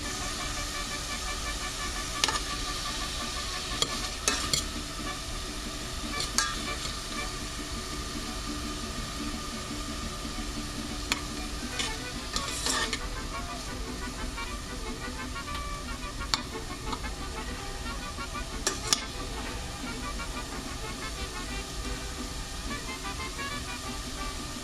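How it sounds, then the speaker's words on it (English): Hot pepper sautéing in a pan for tomatillo salsa, giving a steady low sizzling hiss throughout with occasional faint clicks and scrapes from stirring. "My hot pepper. I'm going to saute that around a little bit first."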